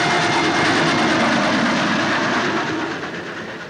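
A train running on rails in a 1946 film gives a loud, steady rumble and rattle of wheels on track that fills the whole clip, easing off slightly near the end.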